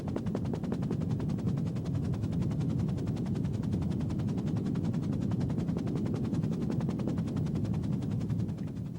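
A helicopter flies steadily overhead, its rotor chopping in a fast, even pulse over a continuous low engine roar that stays loud and unbroken throughout.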